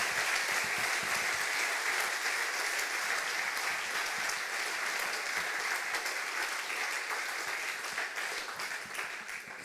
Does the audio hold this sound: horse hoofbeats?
no